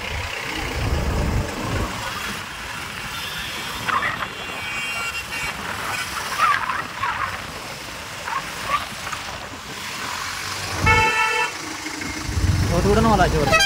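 Dense road traffic with many cars and trucks, engines running and idling close by, with scattered horn toots through the span and a brief squeal of brakes near the end.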